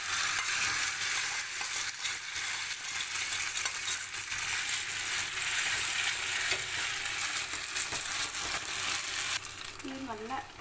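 Maggi noodles fry in olive oil in a pan with a steady loud sizzle throughout, broken by occasional stirring scrapes and a brief voice near the end.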